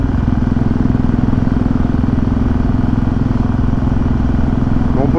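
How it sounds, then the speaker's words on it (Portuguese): A small motorcycle's engine runs steadily nearby during a test ride, a rapid rhythmic thrumming chug that holds constant throughout while someone talks over it. "Tá testando a motinha agora pra ver se vai rodar bem, coisa e tal."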